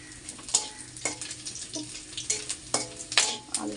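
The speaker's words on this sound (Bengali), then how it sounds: "পেঁয়াজ ভাজছি" Onions fry in a pan, making a continuous sizzle punctuated by rhythmic bursts of stirring and scraping, close and moderately loud with no talk.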